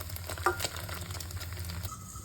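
Egg deep-frying in hot oil until crisp, for old-style Thai crispy noodles (mee krob): a quiet, steady oily sizzle with a brief clatter near the start, no voices.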